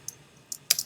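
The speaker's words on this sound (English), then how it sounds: "You're going to type a name in here." A few scattered keystrokes tap on a computer keyboard, sharp and close in a quiet room, with short gaps between presses.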